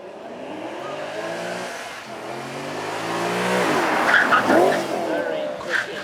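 Porsche Panamera GTS with a 4.8-litre V8 running on a track at a supercar event, its engine note rising and swelling as it passes, with tire noise toward the end and an announcer talking over it.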